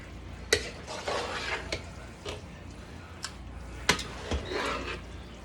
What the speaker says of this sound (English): Cover it. And then start stirring.